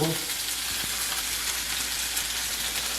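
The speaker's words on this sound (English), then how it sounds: "you can hear that sizzle." Fried rice sizzles in an 8-inch skillet, a dense, even crackle of hot oil that holds steady throughout without any talking.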